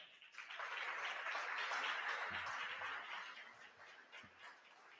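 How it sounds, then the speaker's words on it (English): Audience applause at a book launch for a trilingual criminal proceedings book, a broad wash of clapping that swells quickly, holds steady for several seconds, then eases off, with a few low thumps underneath. "Round of applause."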